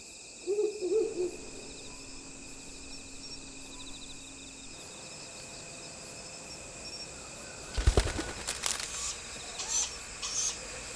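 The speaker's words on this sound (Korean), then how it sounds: "밤의 왕자는 올빼미다." An owl hooting at night in a mountain valley at Giryongsan, a few soft hoots near the start over a steady chorus of crickets and insects, with faint rustling later.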